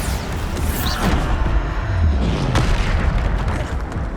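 A Bombarda spell blast in Hogwarts Legacy booms amid dense, loud combat noise, with a continuous roar of magical impacts and rumbling explosions filling the whole stretch.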